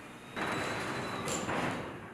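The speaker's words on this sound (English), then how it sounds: "The door returns to the fully open position." A garage door driven by a LiftMaster 8500W wall mount opener rumbles steadily along its track for about two seconds, starting abruptly and fading slightly at the end.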